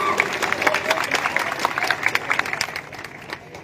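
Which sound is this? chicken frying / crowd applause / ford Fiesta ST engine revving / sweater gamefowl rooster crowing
crowd applause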